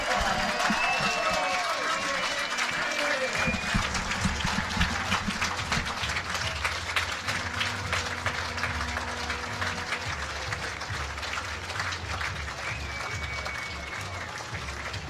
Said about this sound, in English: It's a huge crowd, huge atmosphere.